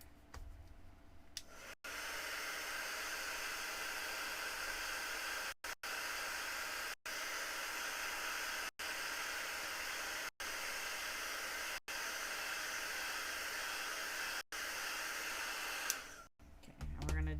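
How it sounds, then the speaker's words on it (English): A hair dryer blowing on a freshly painted craft project gives a steady loud whooshing hiss, briefly interrupted by several quick dropouts as it is moved or switched, then stopping near the end. "Alright, we're going to dry this real quick."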